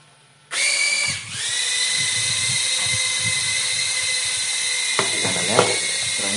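A Cleair O2 CLE-002 mini racing drone spins up and flies, giving a loud, steady, high-pitched motor whine that holds level throughout, with a few brief bumps near the end.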